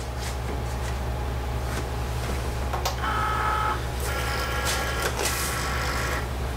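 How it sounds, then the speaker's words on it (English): Cricut cutting machine running, a steady mechanical hum with intermittent higher whirring and brief clicks as the carriage moves, close and continuous. "I'll hit the Cricut button and it's gonna start going"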